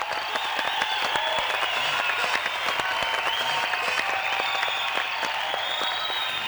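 Steady, dense audience applause for a commissioner being called up at a staged event, continuous clapping at even volume throughout with a faint crowd murmur beneath.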